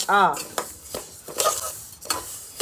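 About 250 grams of sesame seeds are stirred and fried in a pan, making a light sizzle with scraping and clinking of a utensil against the metal, close up after a brief voice at the start.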